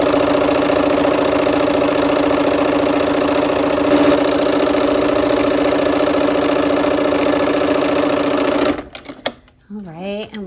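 A sewing machine stitches quilt fabric along a drawn diagonal line, a steady loud mechanical whir that runs for about nine seconds. It then stops abruptly and brief quiet talk follows.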